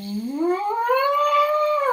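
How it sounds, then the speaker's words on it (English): A buzzing trumpet mouthpiece tone, played without the trumpet, slides smoothly upward in pitch, then levels off and dips slightly, like a wailing siren. "with just the mouthpiece, I can go higher and lower and all kinds of different sounds"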